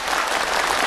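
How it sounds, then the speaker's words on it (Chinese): A theatre audience breaks into full, dense applause welcoming a Yue opera performer on stage at a concert, loud and continuous for a brief moment. "让我们掌声欢迎杨文蔚"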